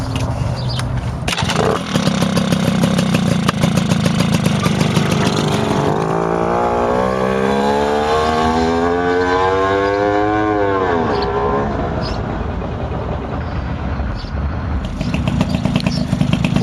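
A Tomos A55 moped engine runs on a short test ride after a transmission fluid change, a loud buzzing two-stroke drone that revs up and down continuously throughout.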